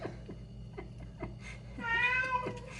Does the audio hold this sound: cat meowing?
yes